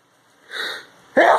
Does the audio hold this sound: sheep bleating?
no